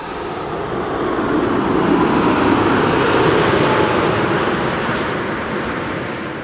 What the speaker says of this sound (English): KLM flight 972 arriving from Humberside with Adam in the cockpit